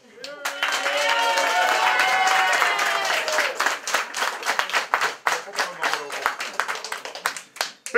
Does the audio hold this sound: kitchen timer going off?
no